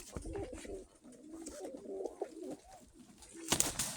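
Soft, low cooing of blue-checker white-tailed pigeons repeating close by in a quiet setting, ending with a short burst of sharper rustling or flapping noise.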